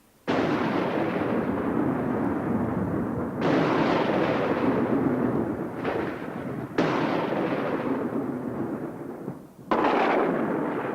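Thunder from a violent lightning storm rolls in long, loud, booming peals of deep rumble. Each lasts several seconds and runs almost into the next, with no voices.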